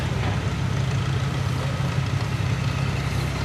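Diesel engine of an International 460 tractor idling at the Red Power Round Up, a steady low chugging rumble heard up close with no talk over it.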